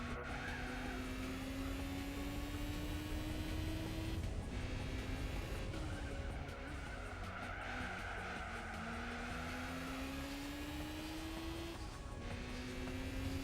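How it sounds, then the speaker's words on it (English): A race car engine in Gran Turismo 4 during the Motegi 8 Hours race revs loudly and continuously, its pitch climbing through gear after gear with brief drops at each shift and tire noise underneath, with no talk. "I love the sound of the revving."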